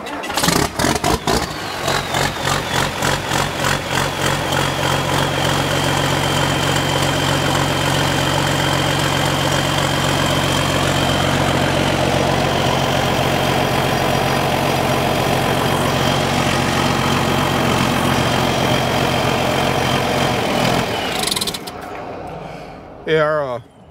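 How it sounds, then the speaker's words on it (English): A tractor engine idles steadily through a straight pipe exhaust, giving a loud, continuous chugging drone. Near the end it abruptly cuts off into near silence. "Everybody wants to hear the straight pipe."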